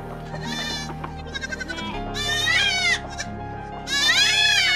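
Goats bleat loudly and repeatedly while they are released and fed, with several overlapping wavering cries close by over steady farmyard background noise.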